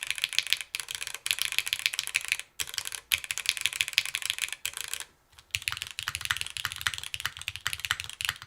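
Fast, steady typing rattles on a top-mount +84 custom mechanical keyboard, close and crisp clacks in dense bursts with a few brief pauses, the keystrokes alone with no talk.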